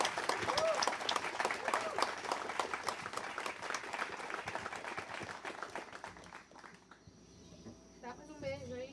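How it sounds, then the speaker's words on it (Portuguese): Wedding guests applaud the bride and groom in a dense, steady burst of clapping that fades after about seven seconds, with voices and faint chatter surfacing as it dies away. "Queria pedir a todos um aplauso para os noivos"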